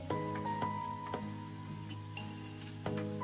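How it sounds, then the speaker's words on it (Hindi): Potatoes fry in a pan with a steady, soft sizzle, broken by a few light clinks of a utensil, while a faint tonal hum runs underneath. "थोड़ा सा फ्राई करेंगे इन्हें।"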